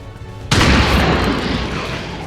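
A weapon fires in the tactical strategy game XCOM 2, one loud sharp blast after a brief quiet lead-in, followed by a long rumbling decay that fills the rest of the moment, with no talk over it.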